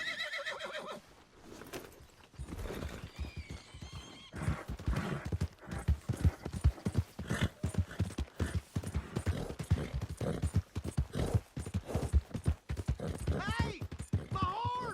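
Rhythmic horse hooves clip-clop steadily throughout in the video game Red Dead Redemption 2, with a horse neighing and people talking and shouting over the galloping.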